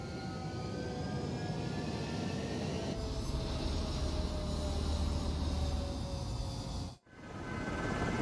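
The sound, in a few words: fighter jets taking off from runway in video game Ace Combat 7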